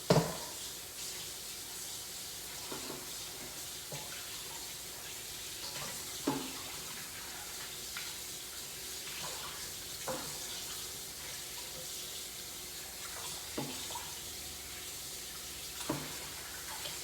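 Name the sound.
running tap water rinsing chicken wings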